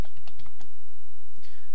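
Typing on a computer keyboard while entering a column name in an app builder: a quick run of close, crisp keystroke clicks, then a short pause and a few more taps, with no voice.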